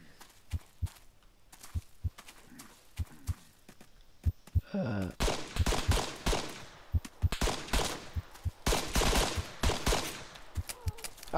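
Game gunfire in Arma 3 at first, as scattered single shots, then a dense, loud burst of automatic fire with rapid cracks that continue to the end. The shots are heard alone, with no talk.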